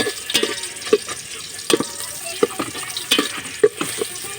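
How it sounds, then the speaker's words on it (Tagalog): Onion and garlic frying until browned in a pan, giving a constant close sizzle with spatula clicks and scrapes landing at a regular beat about every second. "ating pabupulahin mga kapader itong sibuyas bawang"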